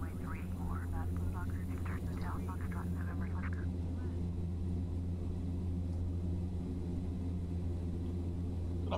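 Steady low drone of a Carenado F50 airliner's engines in the Prepar3D flight simulator, holding a constant hum throughout, with a voice talking over the first few seconds.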